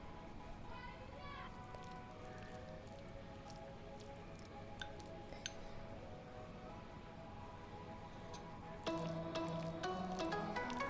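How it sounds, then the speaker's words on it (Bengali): Batter made with cornflour for chow mein is stirred by hand, giving soft wet squishing and sticky slapping sounds, quiet and close, with a brief clatter near the end. "এখানে আমি কর্নফ্লাওয়ার অ্যাড করে নিচ্ছি। এখন মিক্স করে নিচ্ছি।"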